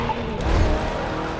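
A car in The Crew 2 racing game skids after the handbrake is pulled, a loud, steady rush of tire noise and engine roar lasting just over a second with no talking.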